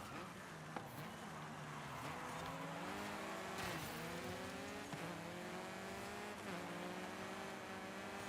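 Sports car engine in Forza Horizon 5 revving through rising and falling gear changes, a steady loud drone with repeated upshifts and a few tire chirps, no talking.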